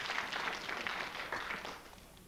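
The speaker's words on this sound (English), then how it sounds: "Half-hearted applause there." Brief, faint, thin applause from a TV game show studio audience, a soft scattered clapping that stays quiet throughout with no talk over it.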